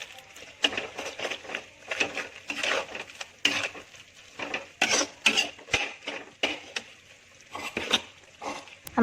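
Pork being stir fried in a pan, with irregular scraping and clattering strokes of a utensil against the pan over a soft sizzle, repeating in uneven bursts.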